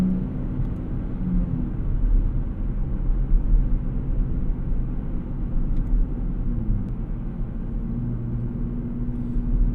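Steady engine and road rumble from a 2024 Nissan Z Nismo on a drive at sunset, heard from inside the cabin as a continuous low drone with slight swells in level and no clear talk.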